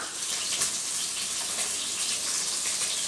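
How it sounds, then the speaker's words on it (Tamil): Water is poured into a pan of sardine curry, a steady close gushing splash that runs without a break from start to finish. "அதுக்கப்புறமா குழம்புக்கு தேவையான அளவுக்கு தண்ணி சேர்த்துக்கலாம்"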